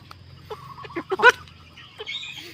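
Hens cluck close by in short, irregular bursts, one letting out a sharper squawk midway, with low farmyard rumble beneath.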